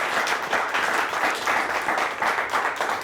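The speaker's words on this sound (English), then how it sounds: "Let's give them a nice round of applause." Quiz show studio audience applause, a brief, even burst of many hands clapping at close range with no voices over it.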